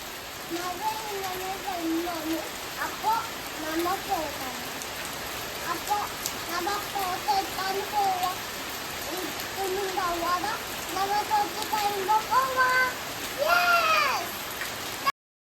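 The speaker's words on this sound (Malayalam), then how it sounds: "മഴ ആസ്വദിക്കുന്നതാണ്" Steady rain falls and patters on a surface nearby, a constant hiss, while people talk over it throughout.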